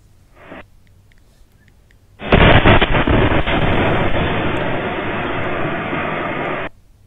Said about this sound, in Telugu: జమ్మూ కాశ్మీర్ నౌగాంలో భారీ పేలుళ్లు కలకలం రేపాయి.